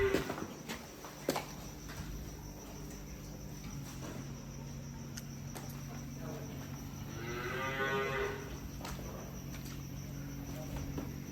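On a dairy farm, a cow lets out one long, drawn-out moo partway through, sounding fairly close, over a steady background of buzzing insects.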